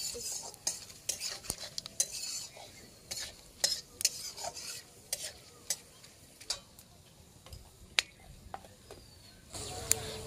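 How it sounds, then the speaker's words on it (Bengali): A utensil lightly stirs whole cumin, two bay leaves and whole garam masala in a pan for duck curry, making scattered quiet scrapes and clinks over a soft, low sizzle. "এখন একটু হালকা নাড়াচাড়া করে নিচ্ছি।"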